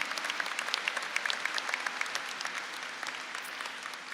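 An audience at a 2025 graduation ceremony claps steadily, a dense, moderately distant patter of many hands that continues without a break.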